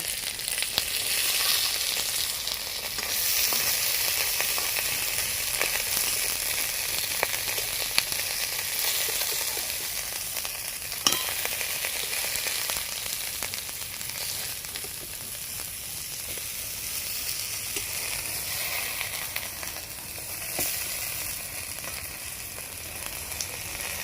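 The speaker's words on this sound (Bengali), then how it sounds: "এবার ঢাকা দিয়ে দিয়ে এক পাশ ভেজে নেব।" Mourala fish wrapped in bottle gourd leaves fry in a covered pan with a steady, loud sizzle and hiss that runs throughout, broken by a few sharp pops and faint clinks.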